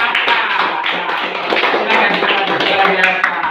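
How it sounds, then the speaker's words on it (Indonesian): A class of students claps together for a classmate group during a school lesson, a dense, steady patter of many hands across the whole stretch with children's voices mixed in. "tepuk tangan untuk kelompok akar"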